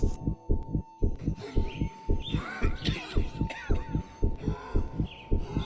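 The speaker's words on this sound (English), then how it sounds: "Oh, it's a heartbeat. That's cool." A heartbeat plays in the video game Love Sam, a steady run of deep, evenly spaced double thumps, close and prominent, with eerie cawing and wavering sounds layered above it.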